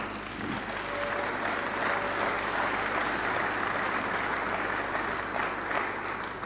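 A church congregation applauds to acclaim the Lord, a steady, dense wash of clapping that holds evenly throughout without pause.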